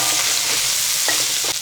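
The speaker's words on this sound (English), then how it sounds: "And now we're going to add our onion." Onion hits a hot pan and fries with a loud, continuous sizzle, close up and steady, with a bit of stirring and no voices.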